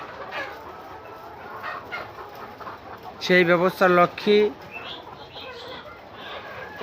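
Chickens at a poultry hatchery farm in Charmonai Union cluck in a short, loud burst of several calls, set against steady background noise and someone speaking quietly.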